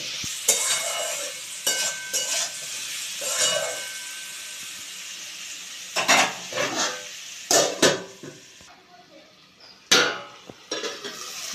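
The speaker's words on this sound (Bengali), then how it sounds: "এবার এটাকে আবারও একটু ঢাকা দিয়ে ভালো করে মিনিট পাতে ধরে ভেজে নেব" Potatoes for aloo posto frying in a pan that gets covered, with bursts of spatula scraping and clanks of the pan and lid between quieter stretches of low sizzle.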